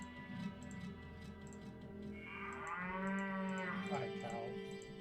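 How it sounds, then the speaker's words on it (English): A cow moos in the game Diablo, a long low drawn-out call over steady game ambience and background music, fairly close and moderately loud. "Hi, cow."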